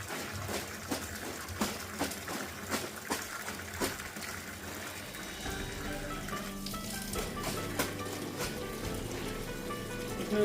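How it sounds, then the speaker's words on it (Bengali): Potatoes sauté in a pan with fish curry spices, giving a continuous soft sizzle with occasional pops and stirring clicks. "মাছের ঝোলের মশলা দিয়ে আলুটাকে কষাচ্ছি"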